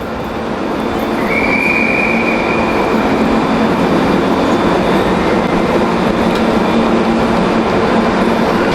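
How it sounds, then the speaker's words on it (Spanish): Train at a station in Buenos Aires, Argentina: a loud, continuous rumble of railcars close by, with a sustained high wheel squeal partway through and steady rolling noise throughout. "vamos a bajar del ferrocarril"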